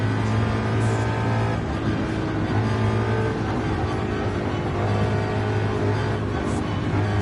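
Ford Mustang GT, 2018 model with stock exhaust, in the racing game Gran Turismo 7: a steady, loud V8 engine drone with a deep throbbing low end that holds at a sustained cruise-to-high rev level throughout.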